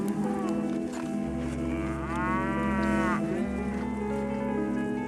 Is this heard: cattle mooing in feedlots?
yes